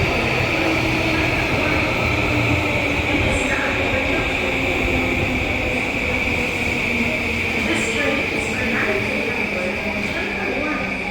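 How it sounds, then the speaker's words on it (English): A train carries riders through Tokyo, Japan, with a constant loud rumble and a steady high whine from the motors. A few faint squeals cut through, and a voice speaks over the noise. "A train to the hotel."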